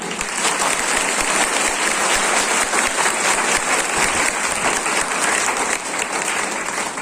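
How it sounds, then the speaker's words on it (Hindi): Loud, sustained applause from an audience at a Deepawali celebration held at Prabhu Uphar Bhawan in Meham, dense and steady for the full seven seconds with no voices over it. "दिल खोल के ताली हो।"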